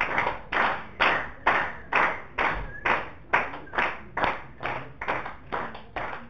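An audience at a student quiz competition claps in a steady, regular rhythm, about fourteen sharp, even beats in a row, moderately loud and with no talk.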